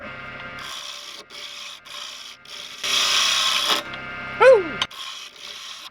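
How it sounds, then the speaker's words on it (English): Wood turning on a lathe, with rasping, scraping cuts in several bursts and one louder stretch of steady shaving near the middle; a short whooping voice breaks in toward the end. "that's the nicest wood to lathe I've ever lathed"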